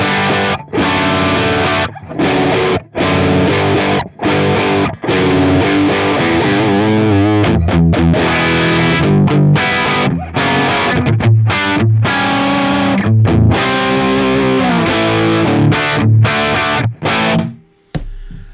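Distorted high-gain electric guitar played through an FM9 modeler set for a Mark V amp tone, loud chugging riffs with sharp stops and gaps, rhythmic palm-muted bursts and sustained chords, ending in a brief silence.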